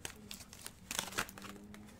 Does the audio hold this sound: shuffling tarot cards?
yes